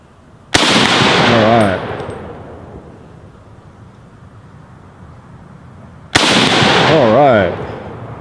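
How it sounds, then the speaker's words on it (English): Rifle bump-fired from the shoulder with a rubber pad, two loud bursts of rapid shots about five seconds apart, each with a short rattling tail, and a voice briefly after each burst. "I bump fired with this rubber pad."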